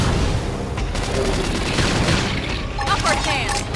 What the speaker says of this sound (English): Boom up. Flame grenade.